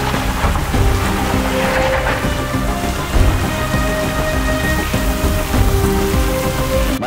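Steady, loud real rain pours on an outdoor film set, a dense continuous hiss of drops hitting surfaces with no voices.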